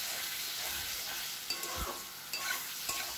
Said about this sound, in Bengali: কেন মশলাটা এখন আমার কষাতে হবে ভালো করে